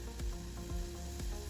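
Sugar and water syrup for vanilla syrup boils and sizzles in a pan on the stove while being stirred, a steady close bubbling hiss with a few brief stirring knocks.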